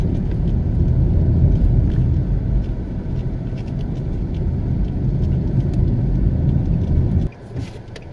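Car driving along the southern coastal highway in St. Thomas, Jamaica, with a steady low road and engine rumble heard from inside, close and continuous, until a brief drop near the end.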